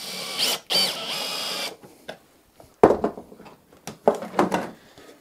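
Screws being driven to join wooden pieces that are clamped together, no glue used, likely with a power screwdriver: two long whirring bursts followed by a series of shorter clicking, ratcheting bursts with brief pauses between them, fairly close.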